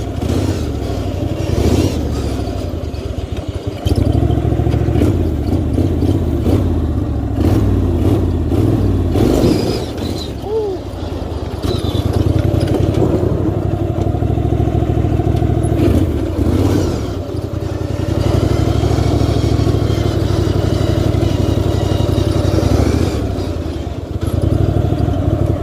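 An off-road riding mower's engine drones steadily and loud, close by, with its pitch shifting as the mower moves up through the gears after a pulley swap meant to make it faster.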